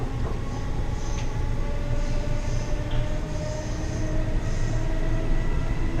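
Inside a moving, nearly empty train carriage, a steady low rumble and rolling clatter of wheels on rails fills the space, with faint rhythmic thuds and squeals over about six seconds and no voices.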